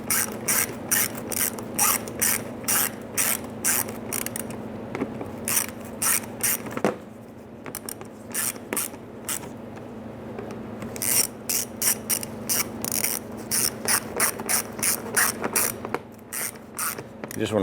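A hand ratchet snugging down bolts while fitting an alternator on a 2005-2010 Chrysler 300, rapid close clicking bursts of pawl ticks repeating in short runs with brief pauses, loud and alone.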